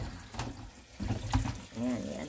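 Water runs in short splashing bursts as garlic stalks are washed for a Korean side dish, faint and intermittent over soft kitchen noise.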